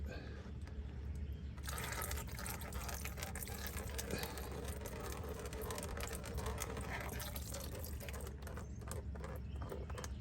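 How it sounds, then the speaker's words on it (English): Transmission fluid drains from a 2023 Volvo XC90 in a steady, continuous splashing pour into a catch pan, close and fairly loud, lasting the whole stretch with a slight surge early on. "this is draining, and you want this to drain as much as possible"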